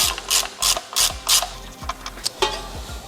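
A ratchet wrench loosens the oil drain plug on a VW Fox GTI, a close run of quick mechanical clicking bursts in uneven strokes, each burst a rapid ratcheting rattle with brief pauses between, and no voices.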